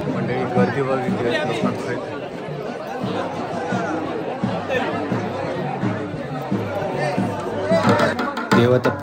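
A thick, close hubbub of many people talking at once surrounds the Dalapswari festival gathering in Achara village, continuous and loud with no pauses, swelling slightly near the end.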